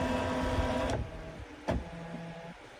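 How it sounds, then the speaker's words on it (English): A Brother-style embroidery machine scanning an image with IQ Designer gives off a steady mechanical motor whir and hum that shifts pitch, with sharp clicks as the scanner moves and stops. "And you will see that my machine over here is scanning."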